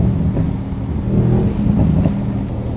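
Deep, steady V8 drone of a 2026 Mercedes-AMG Mythos PureSpeed pulling hard along a mountain road, swelling slightly as it accelerates, with wind buffeting over the engine.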